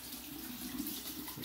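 A bathroom tap runs steadily during a wet shave with a Palmolive shave stick, a constant close rush of water with no talk.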